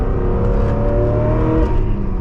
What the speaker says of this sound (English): You can get on the throttle so early out of corners too.